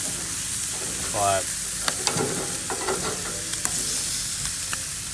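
Marinated chicken drumsticks sizzle in a hot cooker, a steady crackling fry with sharp pops and a few clicks of tongs or metal, and a brief spoken word near the start.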